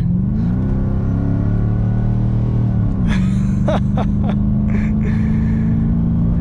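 A VT 5L car accelerates hard, its engine droning in a steady low rising pitch that drops briefly at a gear change, then keeps pulling, loud and close, with brief faint noises over the top.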